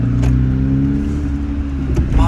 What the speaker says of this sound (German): ich glaube, zweites Mal ist mein Auspuff runtergeflogen.